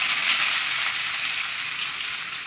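Chopped onions added to hot oil tempered with whole cumin, dry red chilies and whole garam masala, a steady bright sizzle and hiss, close and continuous with no voices.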